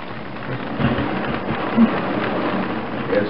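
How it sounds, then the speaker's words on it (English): A thunderstorm at a campsite: steady, heavy rain hisses throughout while low rumbles of thunder roll beneath it, with a few louder thumps rising out of the downpour. "There's thunder and lightning around here, big time"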